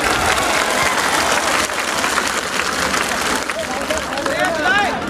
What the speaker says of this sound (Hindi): मैं चाहूँगा कि ज़ोरदार तालियों से इनका इस्तकबाल किया जाए।